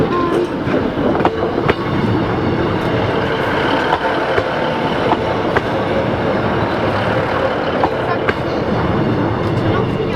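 A train rolls past close by, its wheels clattering rhythmically over the rail joints with occasional sharp clicks, a steady loud rumble throughout.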